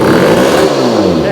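A 1967 Yamaha YCS1 motorcycle engine revving loud and close, a dense, raspy roar whose pitch climbs and then sags over a brief, continuous burst.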